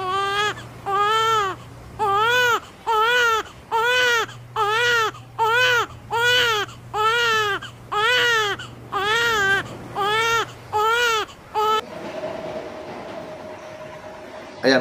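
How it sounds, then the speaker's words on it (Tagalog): A newborn baby cries in a steady series of loud, rhythmic wails, each followed by a short breath, close and continuous before trailing off into a low background hum. "Narinig ninyo ang kataga, yung salita na lumalabas sa bibig ng isang sanggol."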